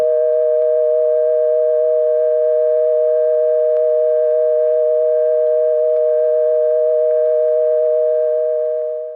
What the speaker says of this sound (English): you can hear some subtle rhythmic overtones that are the effect of the busy signal and the reorder tone coming off of this solid tone